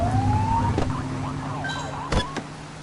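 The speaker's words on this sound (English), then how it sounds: "Get behind them and blip the siren and make them pull over." A police car siren blip in the video game The Precinct, a short rising electronic wail over steady engine hum, followed by a couple of sharp clicks.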